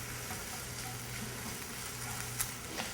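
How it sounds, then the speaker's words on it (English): Thinly sliced red onion sizzles in an old, well-used frying pan on a stove, a steady soft crackle with a few brief pops, close and even. "some very thinly sliced red onion that I'm going to caramelize on the stove"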